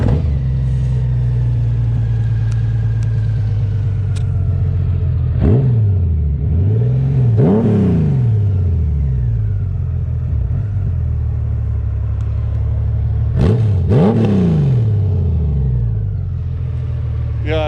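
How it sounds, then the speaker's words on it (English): A 2018 Honda Goldwing Tour motorcycle fitted with Shark Road mufflers idles with a deep, loud rumble, then is blipped in several quick revs, two close together near the middle and a pair near the end, with brief talk over it. "Shark Road exhaust. This thing sounds like it has an attitude now."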